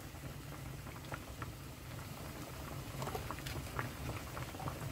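A pot of spicy oyster stew with green onion and red chili bubbles at a steady boil, a continuous soft gurgling patter with scattered pops, close and fairly quiet.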